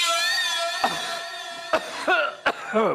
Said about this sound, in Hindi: खांस भी सकते हैं, खांस दीजिए